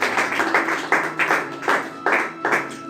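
Church congregation clapping in rhythmic bursts, about six sharp beats across a few seconds, close and lively with a faint voice underneath.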